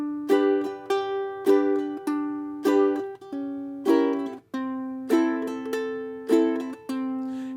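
Plucked ukulele notes ring out in a steady picking pattern, the thumb alternating between the third and fourth strings, with clear, evenly spaced attacks and short decays, played alone without talk.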